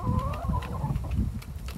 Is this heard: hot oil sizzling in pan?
no